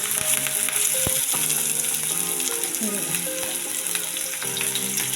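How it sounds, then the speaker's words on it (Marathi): Three large finely chopped onions sizzle steadily in hot oil for egg bhurji, a constant dense hiss with occasional stirring clinks, no talking over it. "आता आपण हे तेलामध्ये घालून घेऊया"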